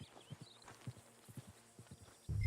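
Horse hooves clip-clopping in Red Dead Redemption 2, a steady uneven walking rhythm at moderate distance, with a brief whinny suggested and a louder rumbling burst at the very end.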